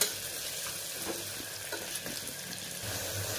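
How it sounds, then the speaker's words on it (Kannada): Onions frying to golden brown in a pan, a soft continuous sizzle with light scattered crackles and faint stirring taps, quiet and without talk. "ಗೋಲ್ಡನ್ ಬ್ರೌನ್ ಬರೋ ಥರ ಈರುಳ್ಳಿನ ಚೆನ್ನಾಗಿ ಫ್ರೈ ಮಾಡ್ಕೋಬೇಕು"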